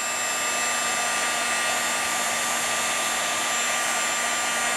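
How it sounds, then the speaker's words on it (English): A heat gun used for heat embossing powder on craft tags blows with a loud, constant whooshing hum, close and unbroken with a steady tonal whine throughout, with no talking over it. "Turn my heater on."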